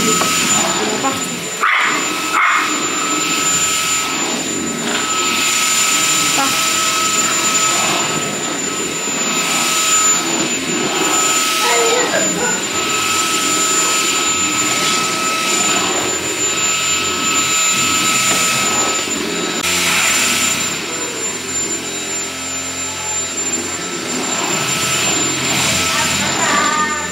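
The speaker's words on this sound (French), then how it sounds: "Bon, allez, on aspire." A vacuum cleaner runs continuously in a bedroom, a steady loud whining roar with a high tonal hum that holds throughout with slight shifts in pitch as it moves.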